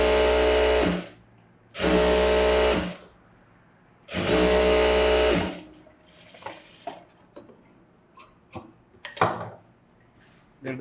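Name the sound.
sewing machine edge stitching blouse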